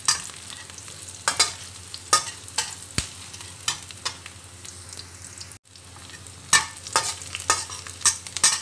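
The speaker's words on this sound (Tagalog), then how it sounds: "Brown na yung ating sibuyas at bawang." Onion and garlic fry until browned for creamy pineapple chicken, giving a continuous sizzle with irregular scraping stir strokes against the pan throughout and no voices.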